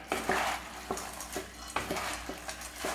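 Sev is stirred with sugar in a hot pan over a lit flame: quick, light scraping strokes come in an uneven rhythm over a soft sizzle, close up and fairly quiet.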